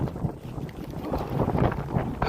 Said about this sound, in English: Wind's blowing up here.